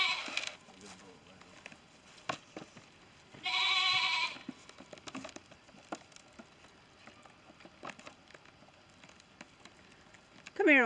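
Goats on a pasture bleat at morning feeding, one clear, loud bleat standing out among scattered footsteps and rustling, with faint voices nearby and another call at the end.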